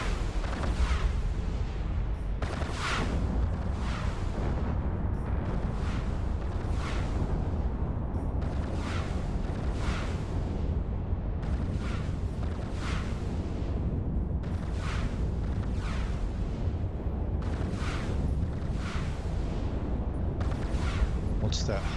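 Ship weapons firing in EVE Online during a space battle: repeated loud bursts land roughly every second over a steady low rumble, with voices talking now and then throughout.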